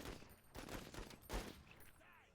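Rapid gunfire in a bug-diving shooter game, a few quiet bursts of shots crackling in quick succession at low volume, with no talk during the firing.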